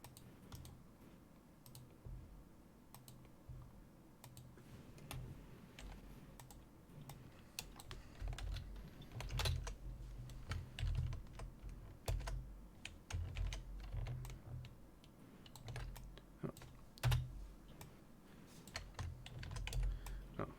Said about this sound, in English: I just realized you're hearing all my keyboard and mouse clicks